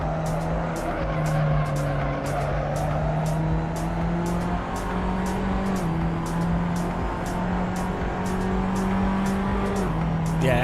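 Race car tyres lock and squeal under braking in the sim racing game Le Mans Ultimate, a continuous loud screech over a droning, slowly shifting engine tone, with rapid regular ticking clicks above.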